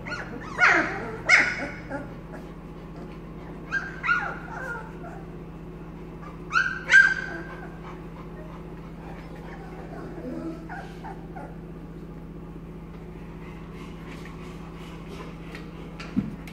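Puppies whimper and yip in short bursts with a few barks, several bouts spread over the clip against a steady low hum.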